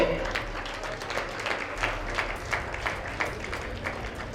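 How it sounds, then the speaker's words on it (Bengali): An audience at a school science fair and art exhibition applauds steadily, a continuous dense patter of many hands at even loudness, with faint voices underneath. "হাততালি হবে"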